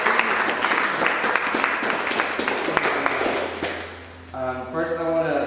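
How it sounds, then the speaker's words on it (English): Audience in the Canadian Flight Centre hangar applauds, a dense burst of clapping that dips toward the end as a voice starts talking over it. "So a round of applause for CFC."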